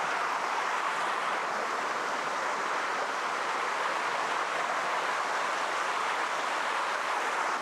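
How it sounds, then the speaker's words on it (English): Forest waterfall heard from a distance, a steady broadband hiss of rushing water that holds even and unbroken throughout, with no other sounds rising above it. "You can hear the fall, some of the falls as I get closer."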